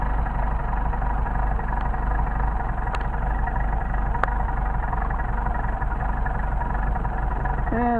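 A warmed-up carburetted car engine idles in a steady, even rumble that holds constant throughout, with a couple of faint clicks and a person's voice briefly heard near the end.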